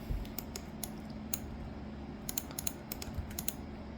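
Computer keyboard keys tapped in short scattered clusters for a Ctrl+T shortcut in Blender 4.0.3, crisp and fairly quiet over a low steady background hum, no talking.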